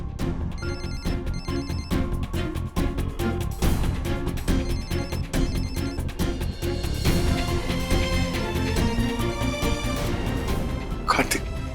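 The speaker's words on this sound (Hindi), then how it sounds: "प्लीज फोन उठाओ।" A telephone rings repeatedly in a domestic TV drama scene, its electronic ringing set against a dense music score and other sounds throughout.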